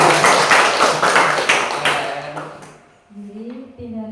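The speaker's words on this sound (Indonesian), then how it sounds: "Ya, tepuk tangan dulu." Applause from a school audience at a principal's performance observation session, a dense patter of clapping for about three seconds that fades out, then a voice begins talking.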